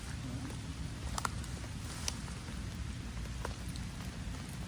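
Steady rain falls in a dense, even patter with a few sharper drops standing out, continuous and fairly close, with no voices over it.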